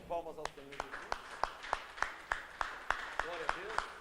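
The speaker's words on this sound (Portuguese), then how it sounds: "Mais palmas ao Senhor." A church congregation in Santo André claps in a steady, regular rhythm, about three claps a second, fairly quiet, with a voice carrying along beneath the beat.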